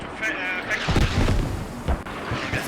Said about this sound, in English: they capitalize on the incoming mortar barrage